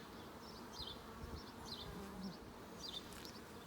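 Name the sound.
honeybee workers buzzing on an open hive brood frame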